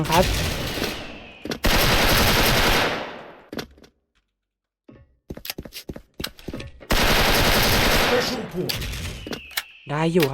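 A gold M4A1 rifle fires in Free Fire, with two long, loud automatic bursts separated by a quiet gap that is dotted with scattered single shots and short clicks.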